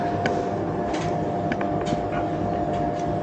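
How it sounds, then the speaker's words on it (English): A steady mechanical whirr and rumble of a Midea MD-7388 7 kg tumble dryer runs continuously, with faint soft knocks from tumbling inside. "let's talk about the noise that is being produced out of this dryer"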